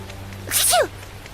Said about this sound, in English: Still, to think Seraphim sneeze just like we do.